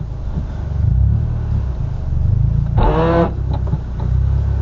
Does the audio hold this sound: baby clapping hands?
no